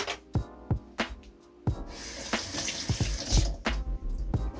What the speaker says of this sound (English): Let me wash my hands and dry it